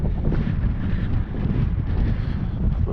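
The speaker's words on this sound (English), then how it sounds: "Wherever we go, we're going to get hit by this wind today" Strong coastal wind at a fishing spot near Pendine, a constant loud roar buffeting the microphone with gusty low-end rumble throughout and no voices.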